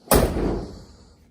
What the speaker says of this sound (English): Well, good working door handle, sort of.